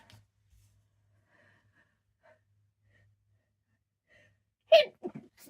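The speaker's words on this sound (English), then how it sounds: "I don't know why I'm sneezing" A single sharp indoor sneeze bursts out near the end after a long quiet stretch, followed by a couple of short breathy exhales, close to the microphone.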